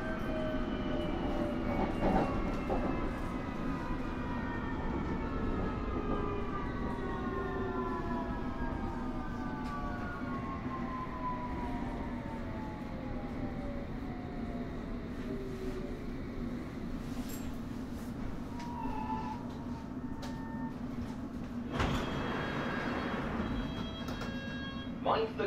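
A London Underground District line S7 stock Bombardier Movia train runs between stations toward Wimbledon: a steady traction hum under rising and falling motor whines, with rumbling wheels and a door-related burst of noise near the end.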